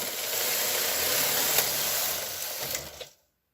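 A knitting machine carriage is pushed across a row, making a steady mechanical whirring and hissing slide with small clicks that ends abruptly in silence.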